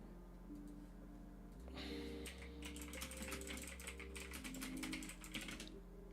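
Rapid typing on a computer keyboard, a dense burst of quick clicking keystrokes over a low steady electrical hum, fairly faint and close, with no speech.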